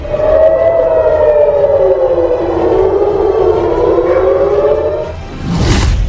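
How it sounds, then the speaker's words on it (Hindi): A civil defense air-raid siren in an Israeli city during a rocket attack wails loudly, its long tone slowly falling and rising, with a burst of noise near the end. "हर तरफ सायरन बज रहे हैं।"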